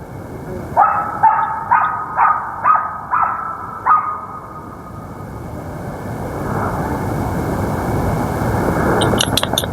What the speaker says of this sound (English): That was a dog barking, obviously, if you heard it.